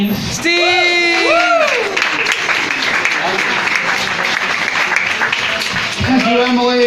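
Audience at a live show at Flannery's bar applauding and cheering, a dense wash of clapping and whoops that holds steady for several seconds while voices shout over it.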